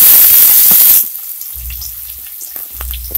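Onions hit hot oil already crackling with cumin, a loud, dense frying hiss that drops abruptly to a softer steady sizzle with low thuds of stirring.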